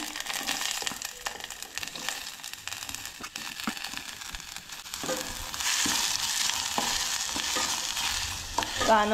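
Sliced onion frying and being stirred in oil for a Goan-style cowpea and drumstick bhaji, a steady broadband sizzle with scraping stirs throughout, fairly close and continuous.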